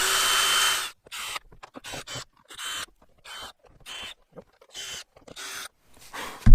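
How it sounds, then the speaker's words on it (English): Torx-head screws on a cargo trailer are backed out with a modified Phillips bit, heard as short, close, whirring bursts separated by silent pauses after one longer opening run. "I also found this Phillips thing that I modified a little bit to pull these silly screws out"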